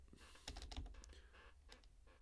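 Fingers type at a steady pace on a covered computer keyboard, producing soft, muffled clicks close to the microphone with no talking.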